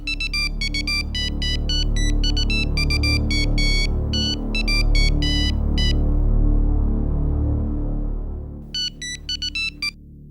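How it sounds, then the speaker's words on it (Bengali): A phone ringtone rings in bright repeating melodic bursts over a steady low background drone. It goes quiet for a few seconds, then starts ringing again. "অবনীর ফোন।"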